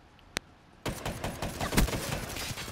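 Light machine gun fire from a Gorgon LMG in Call of Duty Black Ops 3, a dense burst of rapid shots starting after a lone earlier crack and running steadily to the end, fairly close and loud.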